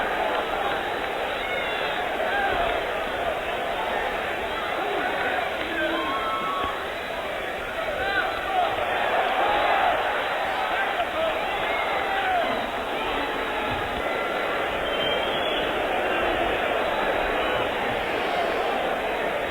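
Wrestling fans packed into Madison Square Garden in New York, a dense roaring crowd murmur held steadily throughout, with someone talking over it.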